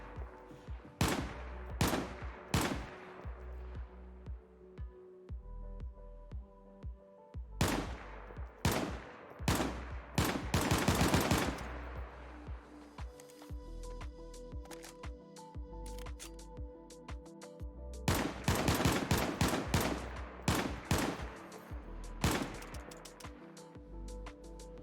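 Sharp, loud single shots from an M14 DMR semi-automatic rifle chambered in .308 in DayZ, fired in spaced bursts of several rapid cracks, with quieter clicks and handling between volleys.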